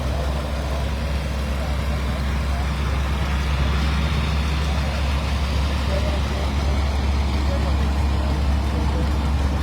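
Classic John Deere-era tractors, including a 1958 model 720, rolling past in a parade at an outdoor show, a steady low engine drone throughout with people talking over it.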